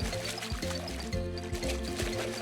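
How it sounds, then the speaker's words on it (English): Animated characters tumble down a hill into a babbling brook, heard as a gurgling, pouring splash of water under bright cartoon music with a steady rhythmic beat. "they both tumbled down the hill into the babbling brook"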